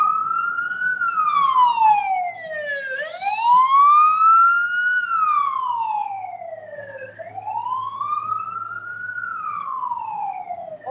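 An ambulance siren wails loud and close in slow rising and falling sweeps, driving through a large crowd, with a low rumble of traffic beneath.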